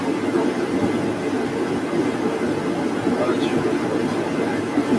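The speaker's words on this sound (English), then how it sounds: "My heaters, I run my heater off diesel." A diesel-fired heater runs steadily in a workshop, a continuous loud roaring hum with a constant low rumble and airy hiss and no pauses across the whole span.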